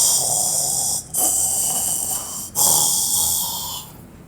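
A narrator imitates two queens snoring loudly, a steady hissing, wheezy drone in two long breaths broken by brief pauses, close and alone with no speech.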